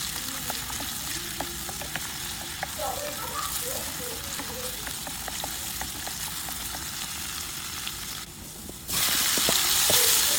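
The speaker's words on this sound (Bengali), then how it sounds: "পাতিলে তেল দিয়ে দিলাম, পেঁয়াজ দিয়ে দিব। এখন পেঁয়াজটা একটু নেড়ে চেড়ে ভেজে নেব।" Onions fry in oil in a cooking pot, a soft continuous sizzle with light stirring clicks throughout, swelling into a louder, brighter hiss near the end.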